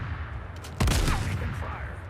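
A short burst of gunfire in the video game The Forever Winter, one loud close crack followed by a brief rattling tail over a dense battle soundscape.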